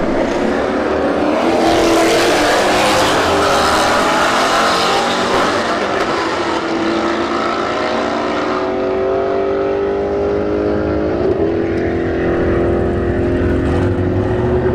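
An S197 Ford Mustang and a Chevrolet Camaro SS drag race at Bradenton Motorsports Park, their engines screaming loudly and climbing through gear changes before fading down the strip.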